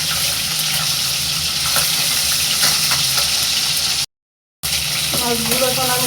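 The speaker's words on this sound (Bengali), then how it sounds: "আমি মাছটাকে অল্প বেজে নেব।" Hilsa fish frying in mustard oil crackles as a steady, loud, dense sizzle, briefly cut to silence. Clinking and light tapping follow as the sizzle resumes.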